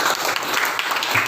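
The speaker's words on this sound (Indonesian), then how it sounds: "Beri tepuk tangan untuk kelompok 1." Classroom applause for a student group, loud dense clapping from many hands, continuous and close throughout.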